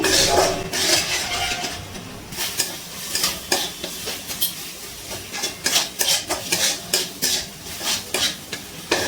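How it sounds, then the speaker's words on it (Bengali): A spoon or spatula scrapes and stirs spices through a pan of mixed vegetables, giving repeated close clinks and scrapes against the metal over a light sizzle, with no talk. "এবার ভালো করে মশলাগুলো একসাথে কষিয়ে নিচ্ছি"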